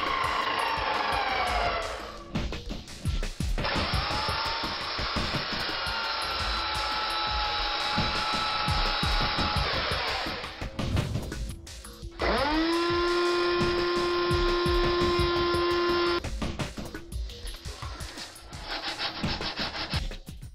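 A table saw whines through a series of curved notch cuts in wood for a shaft, its steady high-pitched drone rising and dropping as the blade enters and leaves the stock, loud and close with no voices.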